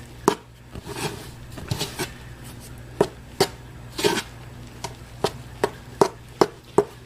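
Buttermilk biscuit dough stirred together with a spoon in a bowl, a series of sharp taps and knocks, sparse at first then settling into a steady beat, close-up with no speech.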